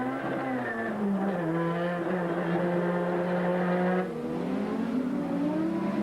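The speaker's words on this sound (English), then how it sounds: "Let's listen to this engine again." Group A touring car engine screaming at high revs on the 1989 Adelaide street circuit, pitch climbing and dropping through shifts, loud and continuous, with wheelspin.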